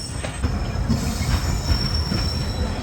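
The Khushal Khan Khattak Express on the Karachi to Sehwan line rolls onto a loop line at a junction, heard from on board as a loud, continuous rumble of wheels on rail with squealing and faint clicking.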